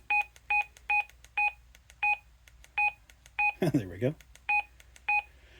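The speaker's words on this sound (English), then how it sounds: "Your keytones, that keeps that little beep that you're hearing." Key tone beeps from a Retevis RA86 20W GMRS radio, ten or so short, clear two-tone beeps in a steady rhythm, close and distinct, with someone briefly speaking over them partway through.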